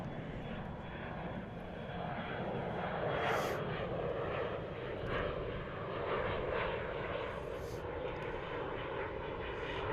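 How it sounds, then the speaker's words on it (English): A Boeing 747 pushing back at Dallas Fort Worth airport, a broad, steady aircraft engine rumble and whine heard from a distance, with voices talking over it. "So we got that 747 pushing back."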